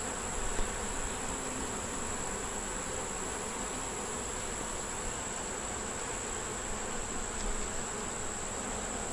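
Honey bees buzzing around an open hive, a dense, steady drone of many bees that stays close and continuous throughout, with no voices.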